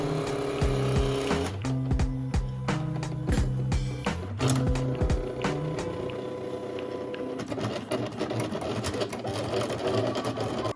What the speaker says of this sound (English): cutting the vinyl on the vinyl cutter